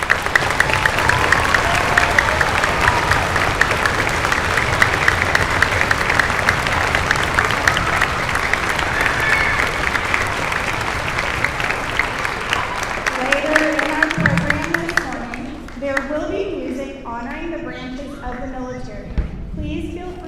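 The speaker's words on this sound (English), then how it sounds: "please stand so that we can take a moment to show you our appreciation with a round of applause" An audience at a middle school Veterans Day celebration applauds military veterans, sustained dense clapping for about fifteen seconds that then fades as a voice speaks over a public address system.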